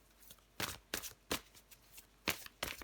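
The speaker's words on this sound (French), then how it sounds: "Je prends encore une carte pour vous." A tarot card is drawn from a deck, heard as several quiet, quick papery swishes and flicks in an irregular rhythm, close and faint, with no talk.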